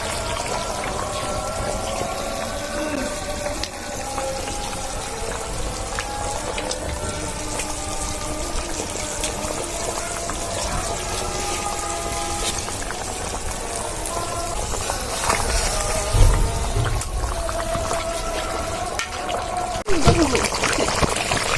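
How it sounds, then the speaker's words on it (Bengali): Fish curry with tilapia and fresh radish boils steadily in a pot, giving a continuous bubbling, simmering hiss with soft liquid burbles and a few clinks near the end. "দেখুন টকবক টকবক করে ফুটতেছে"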